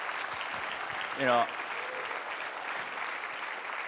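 An audience at the Hawaii Asia Pacific Clean Energy Summit applauds, a steady wash of clapping that carries through the clip beneath someone speaking.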